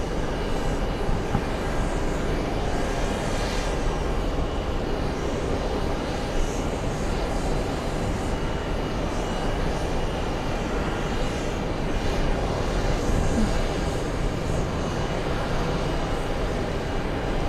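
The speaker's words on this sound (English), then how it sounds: "Iraqi government 777 departing now" An Iraqi government Boeing 777 departing JFK airport gives a sustained, broad jet engine roar that holds steady and fairly loud for the whole stretch, with no voices over it.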